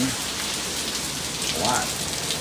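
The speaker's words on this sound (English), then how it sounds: "Definitely raining." Heavy rain pours steadily during a tornado in West Pensacola, a dense, constant hiss close by with a brief faint voice-like sound partway through.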